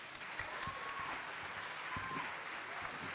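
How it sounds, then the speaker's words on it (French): Applause from the audience at a French youth quiz contest, a steady wash of many hands clapping at moderate distance, with a faint voice briefly audible beneath it. "Je pense qu'on peut les applaudir bien fort."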